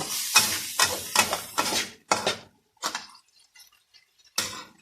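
Water spinach stir-fried with chili in a hot pan, heard as a run of loud sizzling bursts with scraping stirs that come close together at first and then thin out to sparse, quieter hisses near the end.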